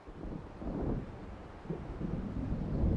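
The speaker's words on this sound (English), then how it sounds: "It seems there's a storm coming." Thunder from an approaching storm in the video game Alan Wake rolls as low, rumbling swells over a windy, gusty background, rising toward the end.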